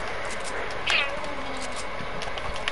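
A single short cat meow rises briefly over steady background noise in a home setting, with people chatting nearby around it.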